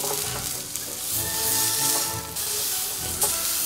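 Kafta cooking over medium heat on a gas grill, a steady loud sizzle and hiss of meat frying, continuous throughout with a few small pops and crackles.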